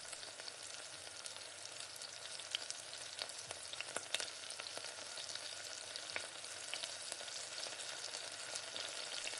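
Yogurt being stirred into a frying onion-and-spice masala for mutton biryani, giving a steady close sizzle with occasional scraping ladle strokes throughout, no voices.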